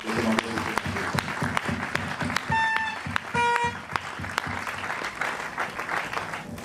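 A church congregation applauding and cheering for the Lord at an end-of-year service, sustained dense clapping from a large crowd with scattered shouts and a few high whistle-like tones, close and loud throughout.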